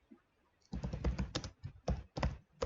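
Keys clack on a computer keyboard in short uneven bursts of close, soft taps, a search phrase being entered, with no talking over it.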